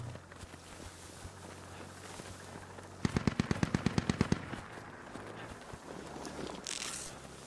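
A rapid burst of about a dozen gunshots from incoming rounds in the military shooter game Squad, fairly close and sharp. The burst is set against quiet ambient noise and is followed by a softer rustle.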